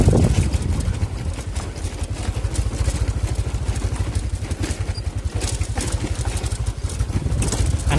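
A small motorcycle, ridden by a young girl through a village at the forest edge, putters close by with a steady, rapid low engine pulse.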